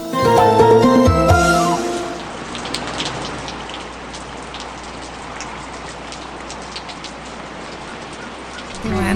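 Steady rain falls in a dense, even patter that continues for several seconds, after a brief burst of music and voices at the start.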